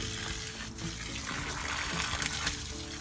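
Water runs from a garden hose in a continuous trickling, splashing flow, close by and fairly quiet, holding steady throughout with no talking.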